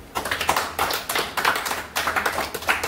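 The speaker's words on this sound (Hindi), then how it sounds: "इनके लिए ताली बजाओ।" Applause for a team leader at a weekly business meeting: a crowd claps steadily in bursts over three seconds, fairly close and loud, with no talk over it.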